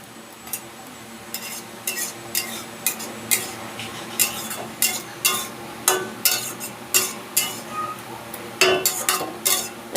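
A spoon repeatedly scrapes and clinks in a pan as ridge gourd peel, green chillies and grated coconut are stirred, with rhythmic metallic strokes about twice a second over a faint sizzle.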